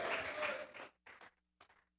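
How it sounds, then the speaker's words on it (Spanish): A church congregation claps in praise as an offering, a soft, distant wash of applause that fades out, followed by two brief scattered bursts of clapping in near silence. "Vamos a regalarle ofrenda de palmas al Dios de la gloria"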